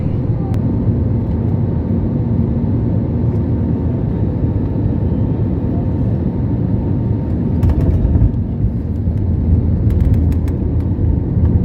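Loud, steady low engine roar inside an IndiGo aircraft cabin during landing with flaps down at Hyderabad airport, continuous throughout with slight swells and faint clicks near the end.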